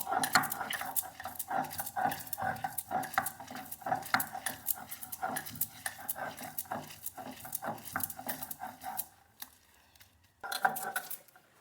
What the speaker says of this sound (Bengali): এখন আমি পাটা পুতোয় বেটে নিচ্ছি